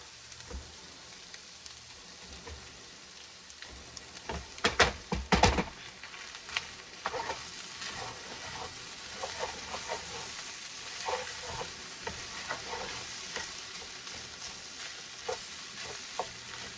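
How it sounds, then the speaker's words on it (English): Rice hits a hot hibachi griddle and fries with a steady crackling sizzle, punctuated by a loud burst of spatula scraping and clatter early on, then continued close, busy frying. "now let's go ahead and add our rice"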